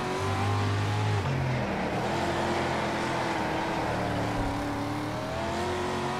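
A dirt race car engine in the World of Outlaws racing game drones loudly and continuously, its pitch rising and falling as the car is driven through the turns of a dirt track.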